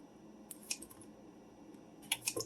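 Scissors snip through beef sausage links in a few sharp, close cuts, with two isolated snips early on and a quick cluster of three or four near the end, set against quiet kitchen room tone.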